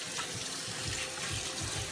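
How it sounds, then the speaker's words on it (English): Hands sticky from egg are rinsed under a running kitchen tap while cooking buffalo cauliflower, giving a steady splashing gush of water that continues throughout without talk. "Get my hands in a little bit of water here."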